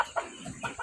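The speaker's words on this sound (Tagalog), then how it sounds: "Mga manok niya pansabong." Fighting roosters kept in a backyard coop cluck in short, brief bursts, a few close calls spread unevenly across a quiet moment, with no talk over them.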